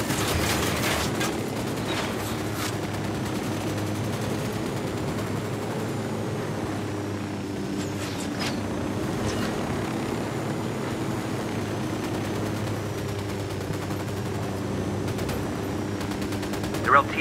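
Gunfire rings out in the video game Ghost Recon Wildlands. Sharp bursts of shots sound over a constant low engine-like rumble, clustered near the start and again midway.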